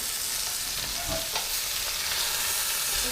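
A beef short rib sears in a hot pan, giving a constant close sizzle with a brief clink and scrape as tongs turn the meat. No one talks.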